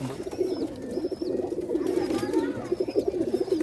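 Pigeons at a pigeon farm coo in soft, repeated murmurs, with faint higher chirps and calls over a constant low background, all fairly quiet and close.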